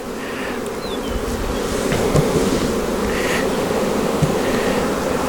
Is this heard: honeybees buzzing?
yes